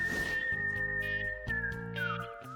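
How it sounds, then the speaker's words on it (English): A single clear whistled tone held steady, then sliding downward near the end, sounding close and alone over a faint musical backing. "Where's that whistling coming from?"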